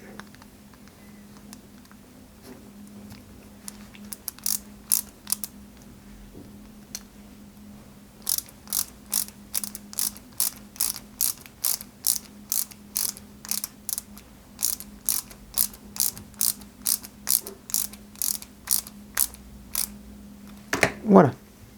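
Small screws are driven into parts of a 1/8-scale 2003 Subaru Impreza WRC model kit, giving a long run of quick, crisp ratcheting clicks from a screwdriver, close and steady, after a quieter stretch of handling at the start.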